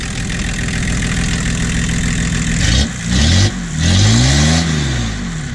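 A diesel car with shaky engine mounts idles with a loud, rough drone, then is revved several times in short rising and falling bursts, close and alone.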